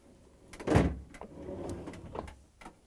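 A Samsung freezer drawer being pushed in, its rollers sliding under the rails: a sharp close knock followed by short scraping rattles and lighter clicks.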